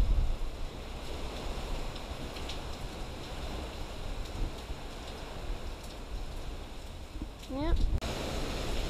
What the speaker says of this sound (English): the winds are definitely kicking up